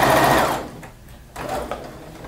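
Sewing machine stitching fabric along a square seam, a fast loud whirring burst, a short pause, then a second quieter run of stitches.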